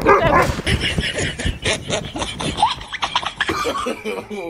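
Excited dog barking and yipping, loud and close, in rapid bursts mixed with shouting and laughter.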